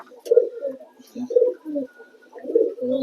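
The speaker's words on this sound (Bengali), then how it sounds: "চলুন এক এক করে সব পায়রাগুলোকে জল দিয়ে দিই।" Pigeons in a loft, including white and yellow-faced fancy breeds, give three clear rounds of deep throaty cooing, close and moderately loud with brief quiet gaps between.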